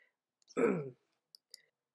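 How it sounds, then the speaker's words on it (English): A single short throat-clearing rasp close to the mic, followed by faint clicks in an otherwise quiet room. "I had to clear my throat"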